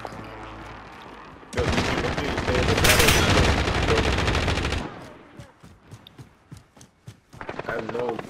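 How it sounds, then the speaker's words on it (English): Heavy bursts of automatic gunfire from a Call of Duty: Warzone battle royale match, loud and sustained for several seconds, then dropping to scattered shots, with a player talking over parts of it. "I'm getting shot at"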